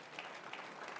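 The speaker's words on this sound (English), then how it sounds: "Another round of applause" Audience applause for a panel at a business forum in Kigali, a brief, steady burst of distant, faint clapping from a large hall.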